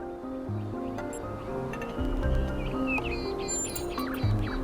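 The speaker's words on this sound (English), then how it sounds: "Do you hear the birds chirping outside the door?" Synthetic bird chirps twitter over a steady musical backdrop of sustained tones in the video game The Talos Principle 2, the chirping growing busier toward the end.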